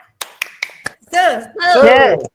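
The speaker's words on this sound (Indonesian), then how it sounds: "Bagaimana kalau kita tepuk semangat ya? Tepuk semangatnya seperti ini." A classroom group performs a rhythmic Indonesian spirit clap, tepuk semangat: four sharp, spaced claps ring out close and loud, then voices chant together in unison.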